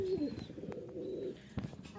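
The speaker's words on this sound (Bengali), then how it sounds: "আর অনেক কবুতর আছে" Soft cooing from Giribaz pigeons murmurs close by, low and throaty, with people talking over them.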